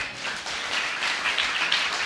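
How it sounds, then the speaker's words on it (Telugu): A church congregation claps through a steady wash of applause that holds at a fairly loud, even level for a couple of seconds, with no talking. "చప్పట్లు కొట్టు."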